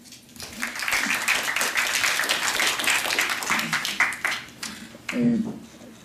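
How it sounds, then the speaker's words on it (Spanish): Students in a lecture audience applaud a physics and engineering talk, a dense burst of clapping that swells and then tapers, with a brief voice breaking in near the end. "Un aplauso para..."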